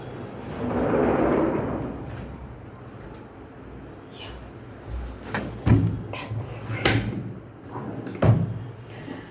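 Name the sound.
door being closed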